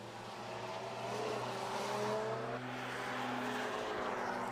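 Race car at Knockhill circuit in the Racing Hondas championship, climbing uphill out of the hairpin and shifting up through the gears, with a steady engine drone rising in pitch and a faint crowd-like wash behind it.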